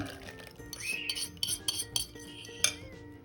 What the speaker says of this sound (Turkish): Hızlı bir şekilde karıştıralım ılıyan terbiyeyi çorbama ekliyorum.